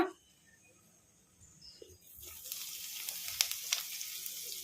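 Quiet at first, then a sudden burst of sputtering and crackling as curry leaves hit hot oil, with sharp pops over a steady sizzle.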